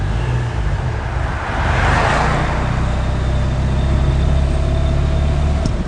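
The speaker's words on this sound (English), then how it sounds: "Oh, the traffic's so bad." A steady low rumble of road noise fills the cabin of a 1987 Fiat 126p in heavy traffic, with a passing vehicle swelling and fading outside amid constant engine hum.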